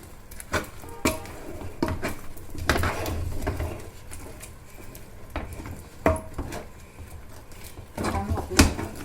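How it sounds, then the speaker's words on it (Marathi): A pot lid lifted off and a spoon stirring the contents, with scattered metallic clinks and scrapes over a steady low background hum, heard while making kurdai from wheat, with shevga mentioned in the preparation. "आपण झाकण काढून बघूया एकदा हलवून घेऊया"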